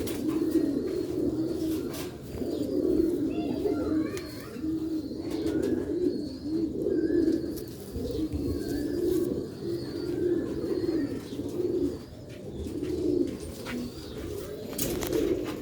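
Slate-coloured pigeons on a rooftop coo in repeated low rolling phrases, close and fairly loud, with a few faint chirps and brief wing sounds between calls.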